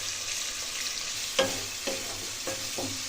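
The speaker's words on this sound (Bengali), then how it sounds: "আবার একটু নাড়াচাড়া করে দিয়ে নিচ্ছি এর মধ্যে গোলমরিচের গুঁড়ো।" A spoon stirs chicken with capsicum and green chili in a pan, soft sizzling underneath and a few distinct scraping clatters spaced about half a second apart, close up and fairly quiet.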